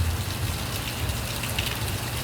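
Heavy Caribbean rainstorm pours down in a steady, dense hiss with a low rumbling undertone, continuous and loud throughout with no voices.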